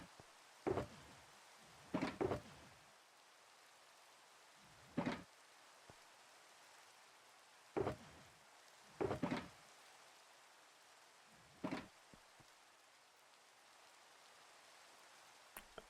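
Steady, soft rain hiss in Minecraft runs throughout, broken by a handful of sharp, close clicks and thumps that come singly or in quick pairs.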